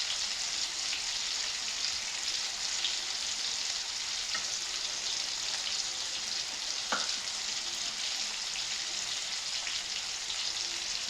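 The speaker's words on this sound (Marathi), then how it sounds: "आता या छान असं आपण परतून घेऊया." Vegetables, peanuts and chickpeas are sautéed in a pan after tomatoes go in, an even, continuous hiss of frying with one brief utensil tap midway; no one talks.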